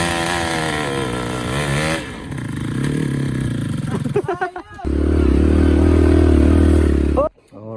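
Dirt motorcycle engines idle and rev on a mountain trail up Mt. Ugo in Itogon, Benguet, loud and close, with a steady low engine drone in the second half and people talking over the start.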